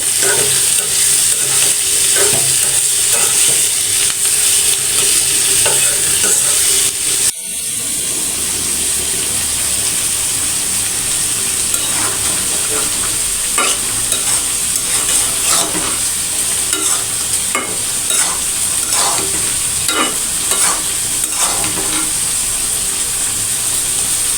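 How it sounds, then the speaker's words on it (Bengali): Fish and pointed gourd fry lightly in oil in a pan, a loud, continuous close-up sizzle and crackle with occasional stirring and no talking. "এখন এই যে তেলের মধ্যে সব কিছু দিয়ে হালকাভাবে ভেজে নিব"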